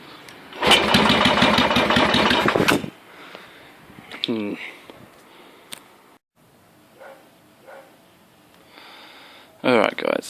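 A Yamaha XS650 motorcycle engine, being timed and tuned, fires up in a loud, rapid chugging burst for about two seconds, then dies away. Quieter mechanical sounds and talking follow.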